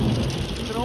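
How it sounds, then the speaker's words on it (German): Hail drumming on the roof of a camper during a storm near Peak Lenin, a dense, continuous rattling patter that fills the whole moment, with a faint tonal whine rising toward the end. "Hilfe, es hagelt draußen."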